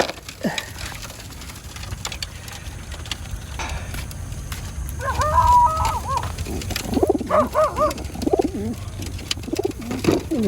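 Pigeons in a loft and aviary give soft, throaty coos that grow more frequent toward the end. The calls sit over a low rumbling background and a scattered mix of other bird sounds.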